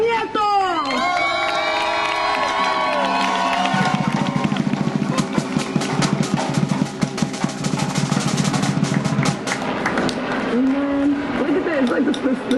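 A crowd at a street protest rally to close down the Mission police station cheers, shouts and whistles loudly, building into sustained roaring noise with scattered yells and a voice calling out at the start.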